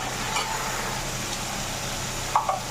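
Prawns sizzle steadily in a hot pan while being fried for a Bengali prawn curry. A soft, even crackle runs throughout, with a couple of brief utensil clinks near the end.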